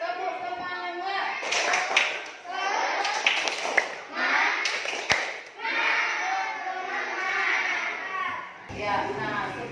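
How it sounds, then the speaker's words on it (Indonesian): Schoolchildren in a classroom clap a rhythmic spirit-clapping routine (tepuk semangat), with bursts of patterned claps mixed with their loud chanting voices. "melaksanakan tepuk lagi ya. Tepuk semangat."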